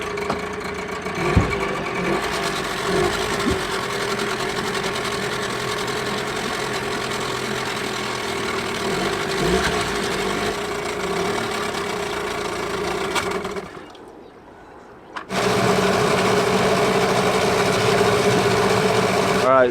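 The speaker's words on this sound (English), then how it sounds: "Right, so I've got both engines idling a little bit higher than usual" Two outboard motors on a sailing boat idle slightly above normal speed, a steady mid-pitched engine drone that runs continuously, dips briefly near the end, then returns louder.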